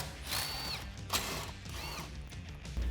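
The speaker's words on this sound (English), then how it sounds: "you can remove those with the same 10mm socket" A hand ratchet with a 10mm socket removes bolts from the front bumper of a Jeep Wrangler. It gives quiet, close bursts of ratcheting clicks with short pauses between them.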